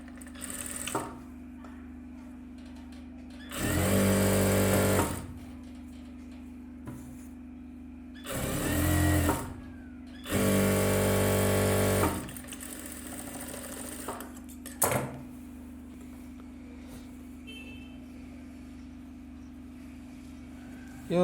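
A sewing machine runs in several short bursts, stitching the lining of a silk skirt with a rolled quarter-inch hem. Each run lasts one to two seconds with pauses between, and a steady background hum continues throughout.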